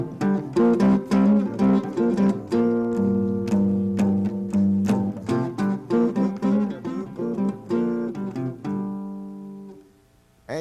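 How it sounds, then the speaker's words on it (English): Guitar plays a melody harmonized in two parts moving in parallel fourths, chord-melody style in a modern jazz manner, a steady run of plucked double notes, close and clear, ending in a brief pause. "Here they are in fourths."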